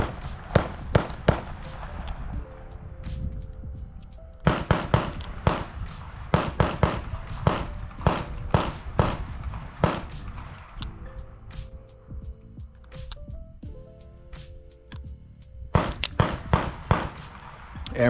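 Six-shot Smith & Wesson 686 .357 Magnum revolver fired outdoors, sharp loud cracks in uneven clusters with short pauses, some shots coming close together, with no talk over them.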